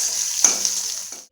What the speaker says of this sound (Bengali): এই তেলে বেগুনগুলো একটু ভেজে নেব।